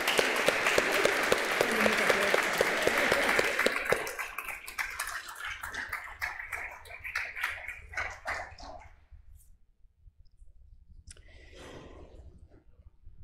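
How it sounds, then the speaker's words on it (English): A church congregation applauds together, a dense round of clapping that thins out after about four seconds into scattered claps, then fades to near quiet with faint rustling. "Let us welcome them with our applause."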